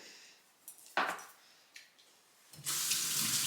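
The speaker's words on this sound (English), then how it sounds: "Wash your hands after you put cayenne on your finger." A water tap runs as hands are washed after handling cayenne, with a few knocks and brief splashes before the faucet comes on in a steady, close rush of water at the end.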